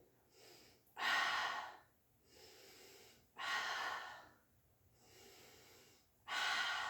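Heavy exercise breathing close to the mic: three strong, loud breaths alternating with softer ones, a steady in-and-out rhythm over about seven seconds during a guided workout, with no talking.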